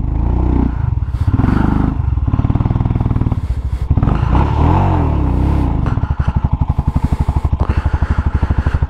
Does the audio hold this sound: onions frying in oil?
no